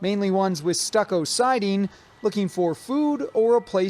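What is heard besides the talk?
No everyday noise stands out behind the speech.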